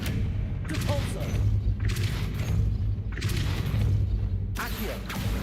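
Repeated Depulsor spell casts in Hogwarts Legacy, heavy booming whooshes bursting out roughly every second and a half over a steady low game hum, loud and close.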